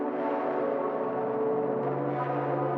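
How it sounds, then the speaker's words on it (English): A sustained synth pad from an Asian bedroom R&B production holds a warm, steady chord alone, with a smooth, continuous texture that shifts slightly near the end. "So firstly, we have this pad,"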